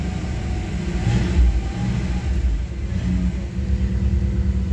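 A 1962 Chevy Impala two-door sports coupe engine starting cold, a loud steady rumbling idle with slight swells in revs, close by and without talk.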